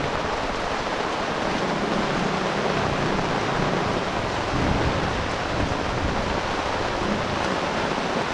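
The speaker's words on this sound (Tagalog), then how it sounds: "Ayan, umuulan doon." Heavy rain pouring down during a storm, a dense and constant loud hiss that holds steady throughout with no voices.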